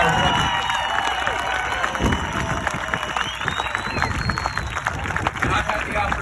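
A rally crowd applauding and cheering for veterans and police, a dense, steady wash of clapping and shouting voices that stays loud and continuous throughout.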